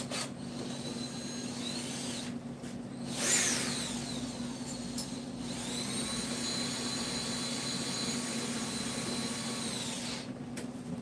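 A power drill snugs a threaded bushing into place with a continuous whirring hum that briefly surges louder near the start, then settles into a steady drone with no talking.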